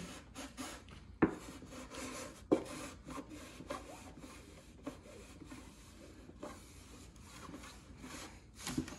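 A sealing iron rubs and scrapes over Monokote covering on an RC plane fuselage bottom, faint and close, with irregular swipes and a few sharper taps between them.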